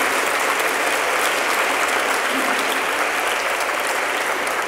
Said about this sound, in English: I think that we should have a little round of applause for that.